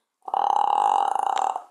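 One long, loud, close belch from a person showing off a burping talent, droning steadily for well over a second before tapering off, with nothing else heard.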